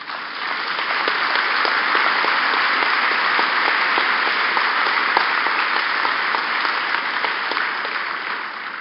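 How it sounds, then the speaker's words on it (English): An audience at a talk by a pilgrim guide applauds steadily for about nine seconds, a dense, even wash of many clapping hands that fades slightly at the end. "That applause is actually for yourself."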